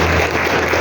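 Church congregation applauding during a family worship service, a dense steady wash of clapping filling the whole short moment with no break.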